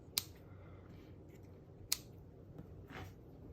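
Scissors make two sharp, quiet snips about two seconds apart, trimming ribbon tails on a handmade card, with soft handling rustles between the cuts in a quiet room.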